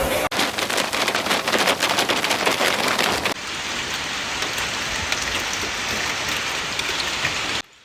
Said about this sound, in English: Melting hail mixed with rain and poured through markets and alleys like a flood.